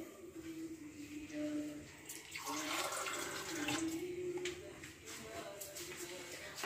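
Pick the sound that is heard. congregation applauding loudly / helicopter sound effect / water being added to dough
water being added to dough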